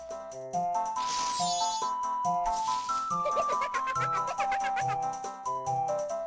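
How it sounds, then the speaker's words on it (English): Fairy sounds from the Majora's Mask video game, light chiming bell dings and tinkling sparkles over a melodic game music backdrop, bright and repeated for several seconds. "They now make these little bell dinging noises, which are fine."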